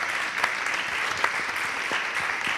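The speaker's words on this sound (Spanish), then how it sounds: "Un aplauso para él." A small group claps steadily for a couple of seconds, a dense patter of hand claps at close range.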